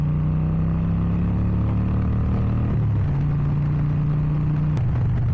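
A Harley-Davidson XL 883 Iron Sportster motorcycle engine runs loud and close, its deep, steady exhaust rumble holding through the whole stretch with a brief dip in pitch midway before settling back, no talking over it.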